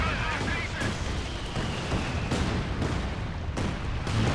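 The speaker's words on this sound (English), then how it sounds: "Land mattress coming in. Targeting all these team weapons here." A Land Mattress rocket artillery barrage in Company of Heroes 2 rolls on as a dense, continuous rumble of impacts and booms. It stays loud and near throughout, with a voice commenting over it.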